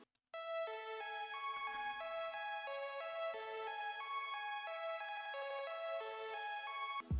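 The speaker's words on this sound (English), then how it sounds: "the only thing else that was different is like the counter melody here, which sounds like this." A synth counter melody for an emotional song plays alone as a steady run of bright, stacked harmonic notes stepping up and down in even rhythm, loud and sustained throughout.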